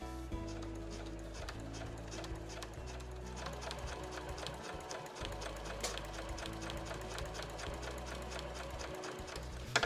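A sewing machine with a blind-hem presser foot stitches a reversible drawstring tote bag, running as a steady, close mechanical clatter with fast regular needle beats that continue unbroken throughout.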